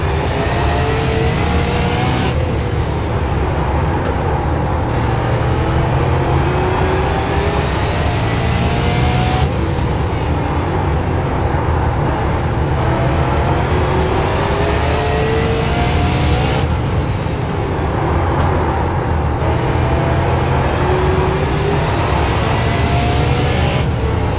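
A super late model race car on the RAID Super Late Model Tour at Southern National laps the track, its engine roaring loud and constant with rising and falling pitch through the turns, repeating lap after lap.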